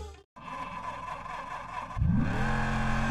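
A video game car engine idles in a drift racing game, then revs up sharply with a rising whine, holding a loud steady drone afterward.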